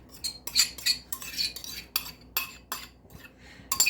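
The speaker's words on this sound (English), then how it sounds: "now I'm going to mix the wet into the dry" A utensil scrapes and clinks in a bowl in quick irregular bursts while wet ingredients are mixed into dry for a baked apple recipe, close and moderately loud, with no talking.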